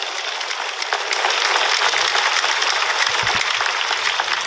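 An audience at a church gathering claps together, a steady, fairly dense burst of applause that swells after the first second and holds evenly to the end.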